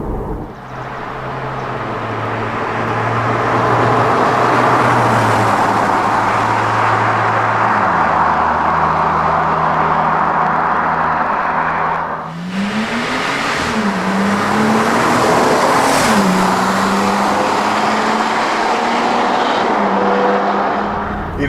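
A Porsche 987 Cayman S with a SCART exhaust drives at a low, steady engine drone, then shifts and rises in pitch as it accelerates. The sound stays loud and continuous, with no voices.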